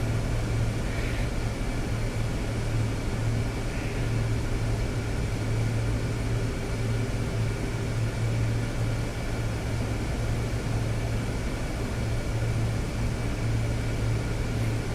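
A Zibo Boeing 737 airliner taxis in within X-Plane 12, giving a constant low engine hum with a steady whine above it, unbroken and even in level, with no one speaking.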